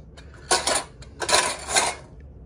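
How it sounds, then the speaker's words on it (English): Metal canning lids and rings dropped into the top of a broiler pan, giving two bursts of bright clattering, clinking metal close by, with a few lighter taps between them and no speech. "just take these lids and rings and put them into my top of my broiler pan"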